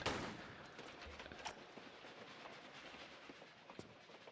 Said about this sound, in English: by shooting enough bullets at the train